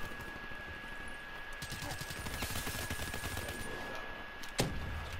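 Dense, continuous gunfire in the Black Ops 3 video game, with rapid overlapping shots and a sharper burst near the end, loud throughout under a busy mix of in-game noise.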